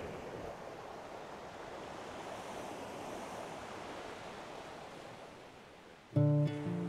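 Ocean surf on the Olympic coast, a steady soft wash of breaking waves heard at a distance, ending in a brief loud tonal burst of music.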